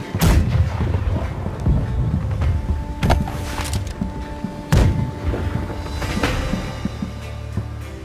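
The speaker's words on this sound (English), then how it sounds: "I'll put shots into the galleon now" Ship cannons booming in the naval combat game Blackwake, several heavy shots spread unevenly over the stretch, with a steady rumble of sea and battle noise beneath and no talking.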